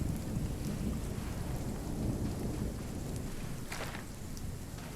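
A thunderstorm rolls through in RuneScape: Dragonwilds, with steady heavy rain and a low rumbling thunder bed filling the scene and no voices over it.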